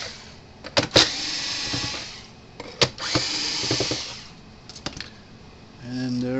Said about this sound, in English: I take the screws out of this thing.